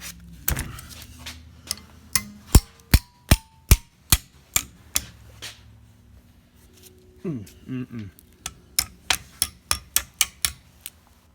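A series of sharp metallic hammer taps on Ford 8.8 axle differential parts, evenly spaced, with a brief pause and some mechanical rattling before the tapping resumes.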